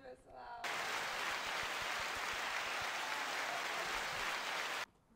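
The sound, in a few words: applause welcoming a guest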